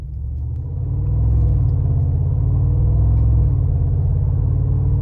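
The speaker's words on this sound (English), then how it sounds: "let's go ahead and take this 2021 Mercedes G550 Brabus out on the road for a test drive" A 2021 Mercedes-Benz G550 Brabus WideStar on the road, a deep continuous engine rumble that swells as it accelerates and then holds steady, heard close from inside the cabin.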